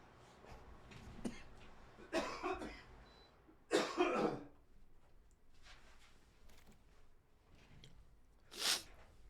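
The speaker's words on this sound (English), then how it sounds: "Oh man, COVID cough is real." Several bursts of coughing and throat clearing from a sick person at a streaming desk, close and moderately loud, spaced irregularly with quiet pauses between, the last a sharp isolated hack.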